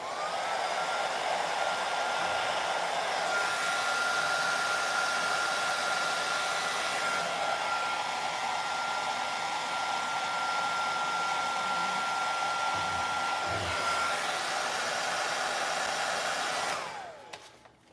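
A hair dryer or heat gun blows hot air in one steady, close, loud whoosh for about seventeen seconds, with faint handling knocks partway through, then it switches off and winds down at the end.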